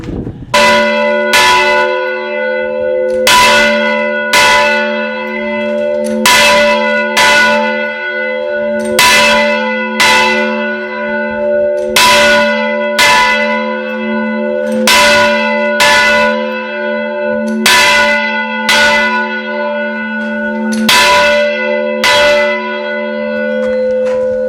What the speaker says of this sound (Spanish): Primero se tocaba esto de vuelta, luego había que hacer el repique y volver a darle a ese.